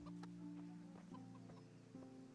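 Chickens cluck in the video game Kingdom Come Deliverance, their short, close calls repeating irregularly over a steady low hum of game ambience, with no talk.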